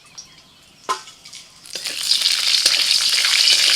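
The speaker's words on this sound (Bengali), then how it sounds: "তেলের মধ্যে ফোড়নে দিচ্ছি তেজপাতা আর একটু কালো জিরে।" Bay leaf and black cumin (kalo jeera) dropped into hot oil as a tempering for a fish curry: a clatter, a brief pause, then a sizzle that swells and keeps crackling loudly up close.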